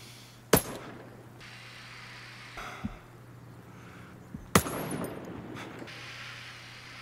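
Two sharp single gunshots from a 4AC assault rifle in Ghost Recon Breakpoint, fired at a 200-metre target about four seconds apart. Each is a crisp crack with a short rumbling tail over a low steady hum.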